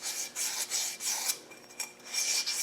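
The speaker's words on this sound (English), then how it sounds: "you'll find some emery. And just clean off that edge a little bit like that" Emery cloth rubbed back and forth over the edge of an aluminium engine part, close rhythmic rasping strokes, about eight quick passes with small gaps between.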